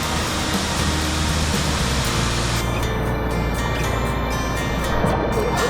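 Jet Khot Yai waterfall on the Jet Khot–Pong Kon Sao forest trail pours with a steady, loud broadband rush of flowing water that stays continuous and close throughout, with no voices.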